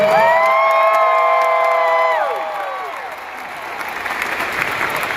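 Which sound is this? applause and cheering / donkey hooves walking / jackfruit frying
applause and cheering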